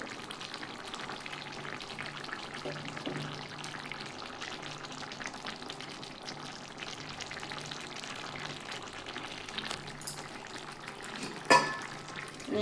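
Beans and potato simmering in a pan with prawns, a low steady bubbling sizzle throughout, faint and close, with a sharp clack near the end and no voices.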